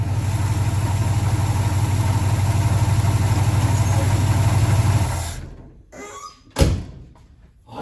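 A Holden HJ Ute engine idling roughly on four cylinders with four plug leads off, a loud uneven low throb for about five seconds that then cuts out, followed by a couple of knocks and a sharp thunk.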